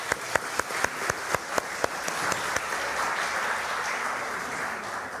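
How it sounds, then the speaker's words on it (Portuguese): A church congregation applauds a group of nine evangelists, opening with several sharp, loud individual claps in a quick rhythm before swelling into a fuller, steady round of clapping from the crowd. "uma salva de palmas para eles"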